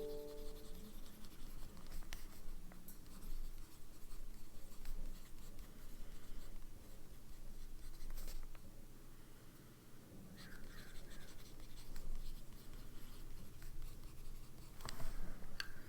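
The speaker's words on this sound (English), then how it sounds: "we never did our writing sample on the paper." Pen nib scratching out a handwriting sample on paper, a faint continuous scritching with small pauses between strokes, fairly close and quiet, with no talking.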